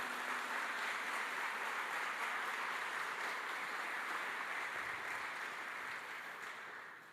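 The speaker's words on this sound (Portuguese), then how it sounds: "aplaude bem forte o nome de Jesus" Church congregation applauding during a sermon, a steady wash of many hands clapping at moderate distance, sustained evenly before tapering off at the end.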